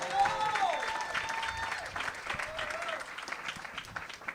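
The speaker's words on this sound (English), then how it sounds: "Give it up for Doughboy one more time" Comedy show audience applauding and cheering, dense clapping with voices mixed in throughout, and a speaker's voice heard over the crowd.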